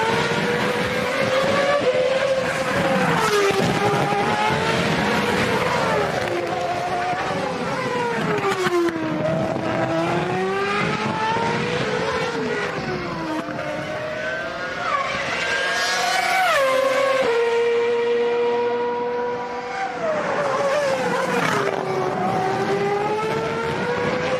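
Formula 1 race cars at the 2006 Canadian Grand Prix in Montreal, engines screaming loud and continuous as they rise and fall through gear changes, with cars passing close by one after another.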